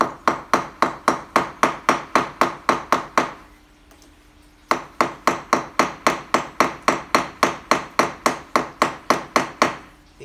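Mosaic pins are hammered into a slingshot handle on a hard surface: fast, evenly spaced sharp blows, about a dozen, then a short pause before another steady run of loud strikes.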